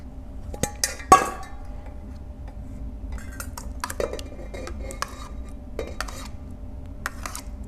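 Homemade peppermint body butter lotion with oils is scraped into another bowl, producing sharp clinks and taps of a utensil against the bowl, one louder knock early on, then quieter scraping and ticks, close up and with no talking.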